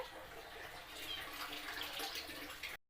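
Water running from a pipe as it fills a container at home, a steady soft rushing hiss that swells slightly and then stops abruptly.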